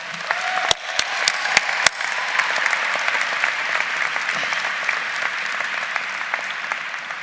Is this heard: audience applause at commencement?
yes